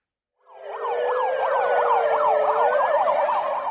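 A Korean fire truck's wailing emergency siren rises and falls in rapid, repeated sweeps, loud and close, continuing steadily with no voices.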